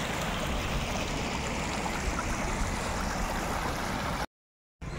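Water pours steadily down Bara Bakhra waterfall in a dense, unbroken rush that sounds close and loud, with a brief dropout near the end.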